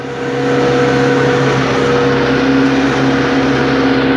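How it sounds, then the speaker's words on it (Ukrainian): A tractor engine pulls steadily in first gear on the third range at about 2000 rpm. The loud, constant low drone with a steady hum carries on alone, without talk. "трактор тяне первою, первою на третьому діапазоні. 7 кілометрів за годину десь. Воно 2000 обертів"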